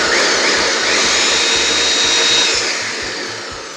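Blender whirring loudly and steadily as it blends a pumpkin pie smoothie, a continuous high motor roar that eases slightly toward the end, with no talking.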